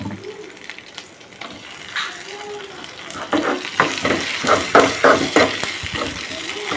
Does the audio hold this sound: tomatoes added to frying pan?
yes